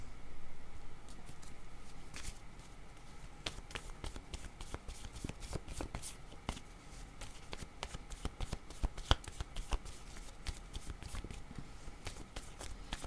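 A deck of cards is shuffled close up, a long run of rapid crisp riffles and taps with small bursts of card flicks, no voices.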